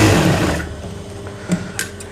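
Sewing machine stitching kameez fabric, running loud and fast for about half a second and then stopping, followed by a few faint handling clicks.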